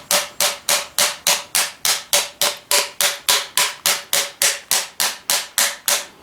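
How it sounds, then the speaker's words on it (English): A Briggs & Stratton Intek M44 twin carburetor part being tapped to loosen it, a steady series of about twenty sharp metallic knocks at an even quick rhythm, close and loud with no speech. "I'm gonna give it a little tap here maybe"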